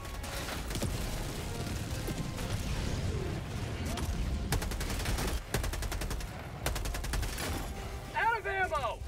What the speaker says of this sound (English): There's a little strafing action for you.